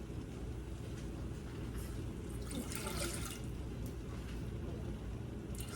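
Water pours steadily into a pot, a continuous splashing rush that builds slightly in the middle, close by with no voices.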